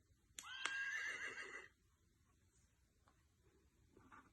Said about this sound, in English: Touch the horse mane to hear her neigh.